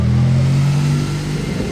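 A Bentley car passing on a street in Monaco, its engine giving a steady mid-pitched hum and rumble that holds close and fairly loud before easing slightly, with no voices.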